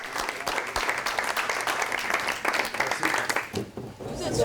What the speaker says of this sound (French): Le représentant d'Areva a même droit à des applaudissements.